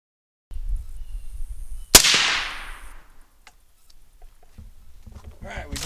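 A 6.5 Creedmoor rifle fires a single sharp, loud shot that cracks and rings out, decaying over about a second, with faint outdoor rustle and handling noise around it.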